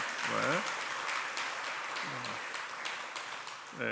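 A church congregation applauding visitors during a Sunday worship service, a continuous patter of clapping with a few brief spoken interjections over it.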